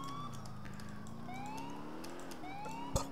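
A default police siren in Grand Theft Auto IV blares steadily, its wailing tone sweeping up and down repeatedly with a constant engine rumble beneath and a sharp knock near the end.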